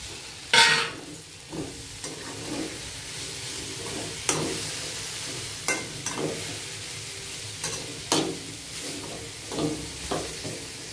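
Okra with kokum cooks in a pan with a low steady sizzle, broken now and then by sharp scrapes and clinks of a spoon stirring against the pan, close and moderately loud.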